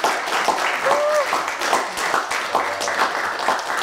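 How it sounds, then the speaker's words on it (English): A workshop audience bursts into dense clapping mixed with cheers and whoops, loud and close, carrying on steadily while voices call out over it. "So give me a CLAP."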